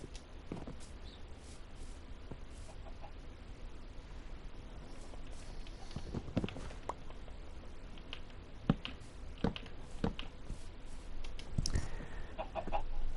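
Chickens cluck in the Minecraft video game, scattered short clucks over a low steady background, some louder and closer than others.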